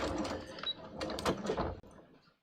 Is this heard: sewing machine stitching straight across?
yes